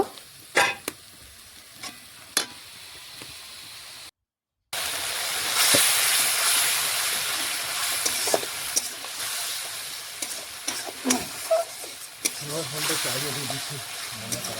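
Masala is stir-fried over low heat in a pan for homemade biryani, with a steady sizzling hiss and scattered spoon scrapes and knocks, plus a short gap of silence early on.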